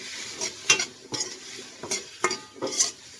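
Ginataan with shrimp, vegetables and crushed pepper gets stirred in a pan, giving about five distinct scraping strokes at a loose rhythm over a soft sizzle, close and clear with no talk.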